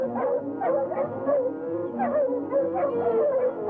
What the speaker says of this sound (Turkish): Pekala Murphy, av köpeklerini sarılın.